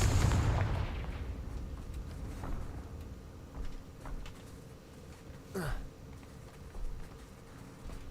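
Spell blasts from the Hogwarts Legacy video game, Bombarda and Confringo, boom loudly at the start and then give way to a string of sharper bursts and a whooshing streak, all over a rumbling game background.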